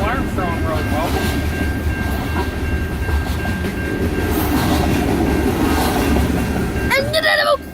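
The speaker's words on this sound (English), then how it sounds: "And this train has 2 engines." Freight train with two engines rumbling past close by on a track near a road in Newport, continuous heavy wheel roar and clatter, a horn or brake squeal near the end, voices faint beneath.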